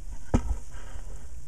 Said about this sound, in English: I'll sizzle for a little bit longer.